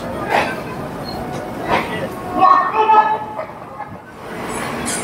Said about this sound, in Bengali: আমাদের ট্রেন 130009 দুন এক্সপ্রেস এইমাত্র কিন্তু ছাড়লো পণ্ডিত দীনদয়াল উপাধ্যায় জাংশন থেকে